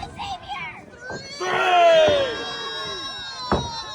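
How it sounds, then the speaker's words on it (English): A crowd at a live professional wrestling show chants in unison with both wrestlers down in the ring, a swell of many voices rising for about a second and a half and then tapering, with scattered shouts around it. "Getting "This is awesome" chants from the crowd right here."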